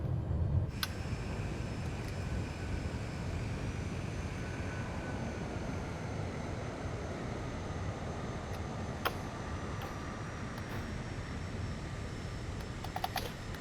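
An airliner in Microsoft Flight Simulator roars with reverse thrust as it lands on a bush trip across southern England. The dense engine rumble runs unbroken throughout, with a few faint clicks on top.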